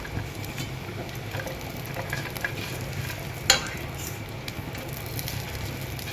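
Paneer is roasted with cashews and coconut in a hot pan, giving a continuous close sizzle with scattered light stirring clicks and one sharper knock partway through.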